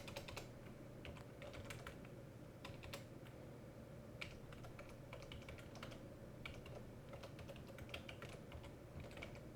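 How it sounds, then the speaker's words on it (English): Fingers tap irregularly on a computer keyboard, quick clusters of soft clicks over a low steady hum, close and quiet. "Sorry for my typing."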